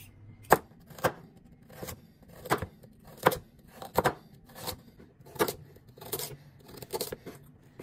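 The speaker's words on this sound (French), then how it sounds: "Je m'occupe des haricots verts, des carottes que j'épluche et que je vais découper ensuite." A knife chops green beans and peeled carrots on a board in a steady run of crisp, close cuts, about a dozen sharp strokes at an even rhythm.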